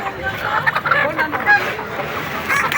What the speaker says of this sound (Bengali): দেখুন অনেক মুরগি।